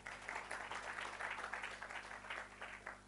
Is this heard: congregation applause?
yes